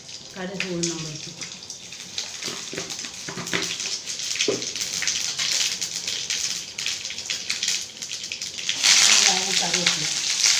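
Mustard seeds and urad dal frying in oil for a plantain stir-fry in a home kitchen, a steady hiss and crackle, with a voice speaking over parts of it.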